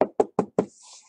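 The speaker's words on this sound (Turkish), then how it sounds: "kapıyı çalıyorsun" Four crisp knocks on a door in an even, rapid rhythm, close and fairly loud, followed by a faint hiss of room noise.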